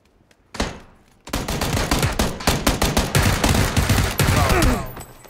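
Dense automatic gunfire in PUBG during an India Open group tournament match, a short burst followed by sustained rapid volleys of loud shots for several seconds with no talk over it.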